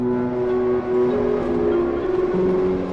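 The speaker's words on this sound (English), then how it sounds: "every time a train is about to arrive in a station, a little distorted jingle plays." A short, distorted chime in the style of a Tokyo station arrival melody plays in the game Trainslation as a train approaches, its steady tonal notes held over a low rumbling bed.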